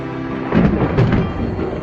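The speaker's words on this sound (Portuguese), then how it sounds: "E trovões e raios apareceram no céu" A short thunder sound effect: a deep rolling rumble with two heavy swells in quick succession, loud and close, with no voices.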